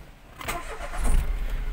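An air conditioner fitted with a replacement fan motor starts up, its low motor hum building over about a second and then running steadily and close by, with no talking.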